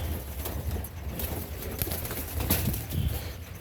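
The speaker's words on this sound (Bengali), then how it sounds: "দেখেন আমার অধিকাংশ কবুতরই নাইরা মাথার" A Naira-headed pigeon pair kept in a loft in Bagherpara, Jessore, with a soft, low cooing murmur under a steady, faint background hiss that continues throughout.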